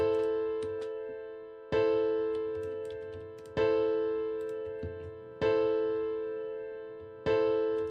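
Synthesized piano-roll chords from FL Studio: five sustained chords, each struck sharply and then decaying, spaced evenly about every two seconds, loud and close with no talking.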